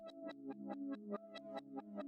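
Reversed Electra X synth arpeggio melody for a UK drill beat, consolidated into one track: swelling plucked notes that rise into sharp cut-offs, repeating about every quarter second over sustained tones, played alone.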